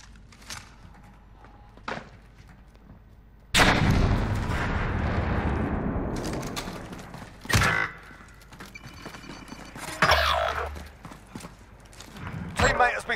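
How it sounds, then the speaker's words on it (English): Grenade explosion and gunfire in a military video game: a sudden loud blast at about 3.5 seconds with a long rumbling decay, then sharp bursts of shots, with game voices calling out over the action. "Throwing grenade."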